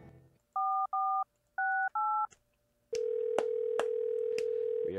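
A phone is dialed in the Thimbleweed Park video game, four crisp paired keypad tones in quick succession followed by a steady ringing tone with faint periodic clicks.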